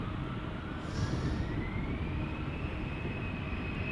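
Airbus A321 jet departing Amsterdam Schiphol, a steady distant engine rumble with a faint rising whine, moderately quiet and without talk.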